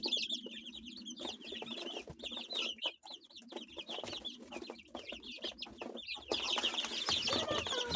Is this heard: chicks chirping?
yes